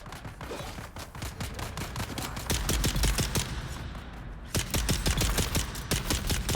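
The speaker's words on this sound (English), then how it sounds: "Oh, these are NPCs fighting each other." Rapid gunfire from game NPCs battling each other on the desert planet Arrakis: dense volleys of sharp shots crackle steadily throughout at fairly close range, with no voices over them.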